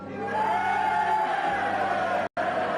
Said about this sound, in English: What's all that noise on the terrace, Howard? I think it must be that rugby crowd.